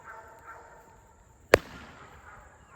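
One sharp, dull gunshot muffled by a bag, with a damped quality, standing alone against a quiet background.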